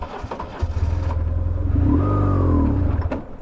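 A BMW R1150GS Adventure motorcycle engine revs up in mud while the clutch is slipped, a deep throbbing boxer-twin note swelling and holding for a couple of seconds before easing off, close and loud.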